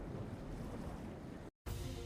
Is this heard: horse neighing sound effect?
no